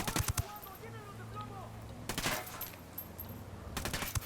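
Gunfire in Ghost Recon Wildlands comes in sharp rapid bursts at the start, again in the middle and at the end. Quieter game noise and faint radio-style chatter fill the gaps between bursts.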